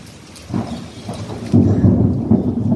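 Loud, deep thunder rumbles and swells over steady rain, growing heavier and closer partway through.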